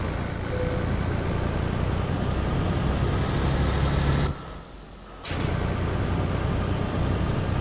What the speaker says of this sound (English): The engine does not make a lot of noise